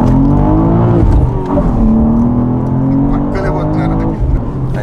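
A BMW M2 sports car with a manual transmission drives at a relaxed pace, its steady engine drone running loud and continuous throughout, with people talking inside the cabin over it.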